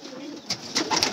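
Pigeons cooing on a rooftop, several soft throaty coos in quick succession, close and fairly loud with faint background sound.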